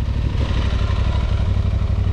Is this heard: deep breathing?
no